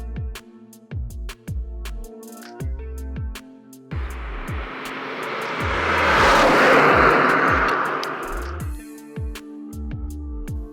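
Turbocharged BMW M135i hot hatch accelerating hard, engine note climbing through repeated rising sweeps with brief drops between gear changes, swelling into a loud rushing roar as it passes close by before fading back to revving.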